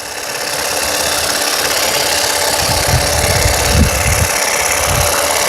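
A WORKPRO 36V cordless hedge trimmer on a wheeled extension runs with a steady, loud motor whine. The whir stays even throughout, with a few soft bumps and rattles underneath as it rolls along.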